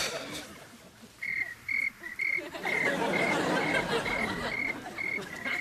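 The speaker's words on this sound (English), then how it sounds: "Crickets? It's a tape. Sounds of the trailer park." Taped recording of night crickets meant to evoke a trailer park, a steady chirping chorus with regular pulsing calls that grows fuller partway through, playing alone without talk.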